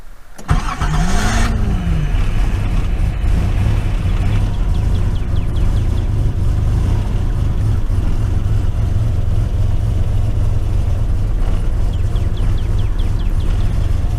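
A Nissan Z31 fitted with a newly wired Megasquirt ECU cranks briefly, catches and settles into a steady, low, rumbling idle that runs alone to the end.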